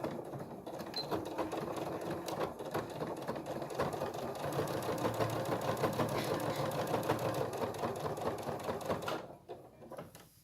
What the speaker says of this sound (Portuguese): Posiciono, ajeito e costuro. Costuro devagar.